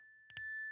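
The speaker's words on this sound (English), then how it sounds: "I don't know why that bell's going off, but Holly," A faint electronic tone plays, then two quick, bright bell strikes ring out close together, and a high tone lingers afterward, quiet and alone.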